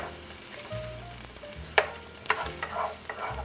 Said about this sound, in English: I'm just gonna drop these in there. Swirl them around so we get that garlic flavor going.